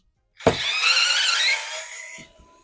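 A WORX WX242 4 V cordless screwdriver backs a screw out of wood, a close, brief, high whirring burst of about two seconds that starts sharply and then fades, followed by a couple of faint clicks.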